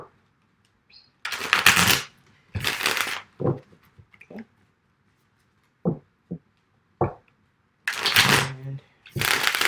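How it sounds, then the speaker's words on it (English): Tarot cards riffle and shuffle in several short crisp bursts with quiet pauses between, close by, with a brief spoken word. "I still just like to shuffle a little bit more on camera."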